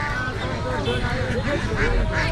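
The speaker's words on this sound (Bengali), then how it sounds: "এখন আমরা হাঁসের বাজারে এসেছি" Ducks at a village market in Bangladesh quack loudly and continuously close by, a dense overlapping chorus with market voices talking underneath.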